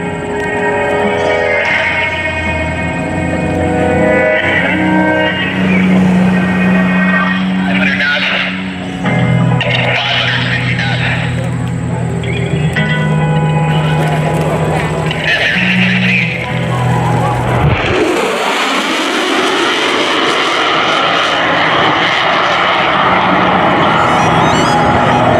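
A twin-engine F/A-18F Super Hornet with F414GE 400 engines in maximum afterburner at an air show roars continuously, with a loud announcer talking over it and a sudden sharp surge of jet noise near the end.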